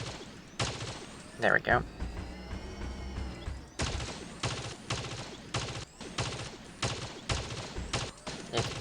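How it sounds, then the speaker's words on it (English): Rapid gunfire bursts from a Theseus build in the vehicle combat game Crossout Mobile, repeated sharp volleys with mechanical clatter between them, a player briefly speaking over the shooting. "let me shoot at this guy until my perk is almost charged"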